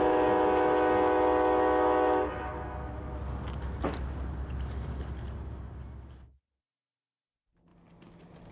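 A passenger train at Winnemucca sounds a loud sustained horn blast, then its rumble carries on and fades before cutting to near silence and a faint return of rail noise.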